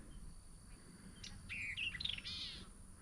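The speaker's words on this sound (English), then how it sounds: "There's a bunch of birds flittering about." Several small birds flit about outdoors, giving faint, scattered high chirps and short twittering calls at a distance over a quiet background hiss.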